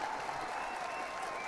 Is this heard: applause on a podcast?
yes